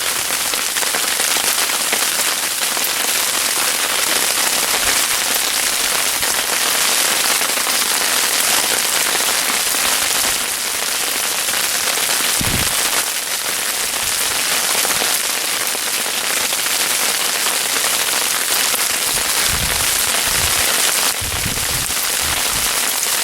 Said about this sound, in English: It's sleeting outside.